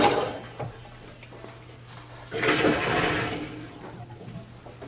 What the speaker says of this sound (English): I just turned on the water.